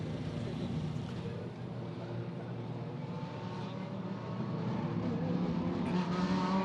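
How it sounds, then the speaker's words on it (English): GT3 race cars roll out of the pit lane onto the Macau street circuit during qualifying, a dense continuous engine drone with layered revving that swells slightly toward the end. "GT3 cars back on the gear circuit here at Macau, leaving pit lane and populating the streets of Macau."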